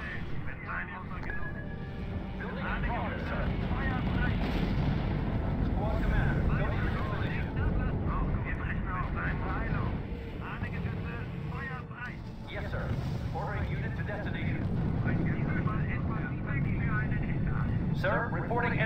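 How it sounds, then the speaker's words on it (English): Game battle din in the strategy game RUSE with Russian bombers approaching: a loud, steady engine and rumble wash runs throughout, broken by bursts of battle noise, while voices talk over it. "Russian bombers incoming, sir"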